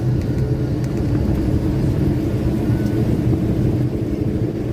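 A 1965 Chevy truck rumbles along steadily from inside the cab, its engine and road noise forming a dense, loud low drone without pauses or talk.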